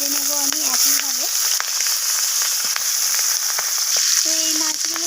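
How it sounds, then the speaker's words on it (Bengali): Pieces of rohu fish sizzle steadily in hot oil in a home kitchen, a continuous close crackling hiss that runs throughout, with a faint background tone coming and going. "এরপর বাকি মাছগুলোকেও ভেজে নেব আমি একইভাবে।"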